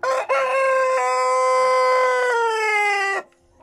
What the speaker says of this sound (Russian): За сеткой у нас брама колумбийская, петухи и курочки.